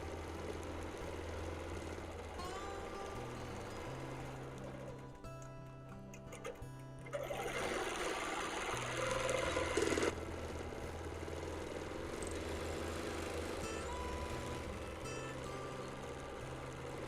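A sewing machine quilts a pillow, a steady low mechanical hum with faint rhythmic ticking, briefly pausing midway before running on, fairly quiet throughout.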